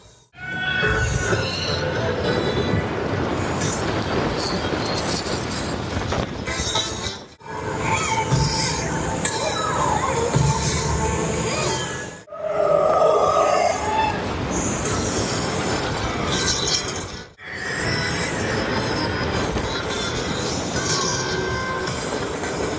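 The Mario Kart ride at Super Nintendo World in Epic Universe rumbles continuously with squealing wheels and rattling, loud and close, with a few short drops in level between sections.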